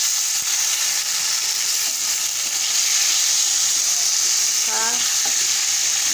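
Tomatoes roast and sizzle in a pan for a rustic tomato rassa bhaji, a steady, close frying hiss throughout with a brief stir or scrape near the end and no talking.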